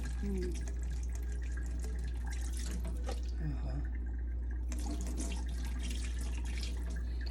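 Wild berries are washed under a running tap, with a soft, steady trickle and splash of water and scattered drips. People talk nearby over the running water.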